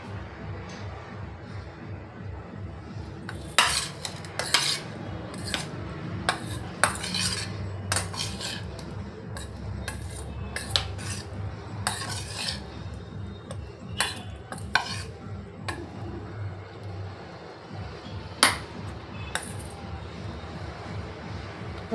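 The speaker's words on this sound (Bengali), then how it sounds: "ওলকপিটায় আমি অ্যারারুট মিশিয়ে নেব" Boiled kohlrabi is mixed with arrowroot in a bowl, heard as repeated sharp clinks and scrapes of a metal spoon against the dish over a low background hum.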